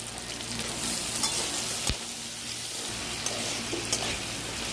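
Diced onion, capsicum and tomato fry in a pan with a steady, close sizzle, broken by occasional scraping stirs, and no voices.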